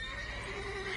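A horse in The Witcher 3 whinnies in one sustained, clear call, close and fairly loud, with faint hoof clatter underneath.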